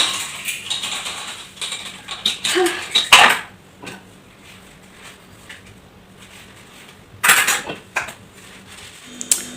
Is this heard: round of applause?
no